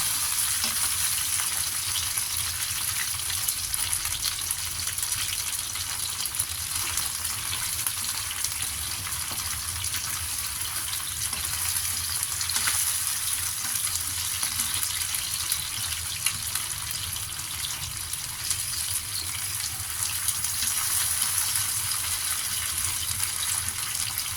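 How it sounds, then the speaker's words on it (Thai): Chicken with shiitake mushrooms is stirred in a hot pan for a red braised dish, giving a steady, close sizzle with soft scraping and stirring throughout. No one speaks. "ใส่เห็ดหอมเข้าไปแล้วก็คนจ้า ตักให้เข้ากันนะคะ"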